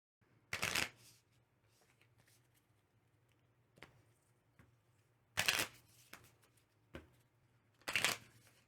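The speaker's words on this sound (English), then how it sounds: "we ran out of deck, so we have to shuffle the discard pile" Three bursts of a deck of cards being riffle-shuffled, each a brisk fluttering rattle, with quiet handling clicks in between over a low hum.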